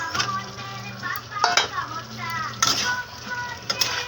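Meat with light spices cooks in a large wok, a steady close sizzle broken by repeated scraping stirs and clinks of metal against the pan.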